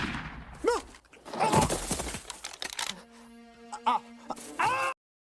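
A few sharp, loud rifle shots ring out in quick succession at a lion in the film The Ghost and the Darkness, mixed with music and other sound effects.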